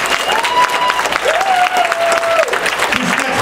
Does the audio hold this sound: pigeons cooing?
no